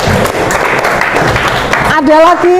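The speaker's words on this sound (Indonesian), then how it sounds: "luar biasa, tepuk tangan." Audience members in a classroom session burst into brief clapping, moderately close, which gives way to a person speaking at the end.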